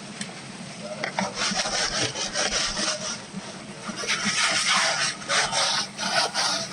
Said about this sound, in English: Take a bunch out of your bucket, dump it in the tray, shake it around, scrub it around to see what we got.